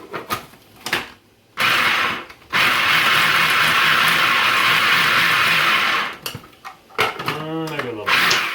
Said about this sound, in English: I don't put as many in, and I just hit them 2 or 3 times with the chopper.